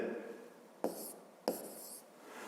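Pen writing segment names in a school notebook during a fifth-grade maths exercise, giving two short scratchy strokes close up in a quiet room.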